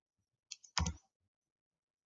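A few separate clicks of typing on a computer keyboard, a short burst of keystrokes near the middle followed by a single tap at the end, close and clear with no talking.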